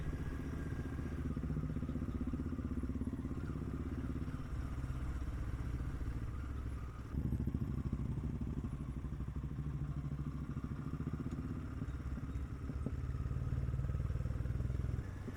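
A motorcycle engine-braking in first gear on a muddy monsoon road, a steady low rumbling drone with faint clatter, close and continuous with slight shifts in pitch and no talk.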